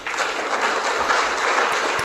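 Applause at a US-Africa summit address, steady dense clapping from a crowd lasting the full moment at fairly strong volume.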